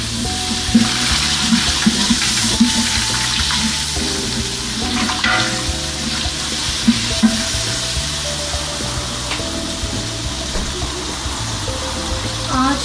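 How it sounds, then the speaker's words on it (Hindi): Onions frying in hot oil in a heated pot while making chana pulao, a steady broadband sizzle with scraping and stirring over continuous background music, no talk. "अपने प्याज जो है गोल्डन ब्राउन होने तक उनको फ्राई करेंगे।"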